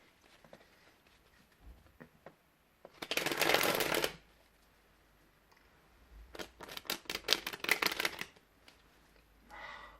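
A deck of used playing cards is riffle shuffled, a one-second rapid fluttering burst, then after a pause a second longer series of quick card riffles and bridging snaps, close and fairly quiet.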